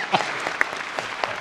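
Audience applause at a live public debate on geoengineering, a short scattered burst of clapping with a few sharper claps, moderately loud in a hall.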